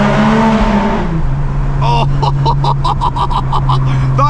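Diesel Nissan GTR with an aftermarket exhaust accelerating through a tunnel: a loud, droning engine roar that shifts pitch, then a rapid series of sharp rhythmic pulses echoing off the walls, close and dominant throughout.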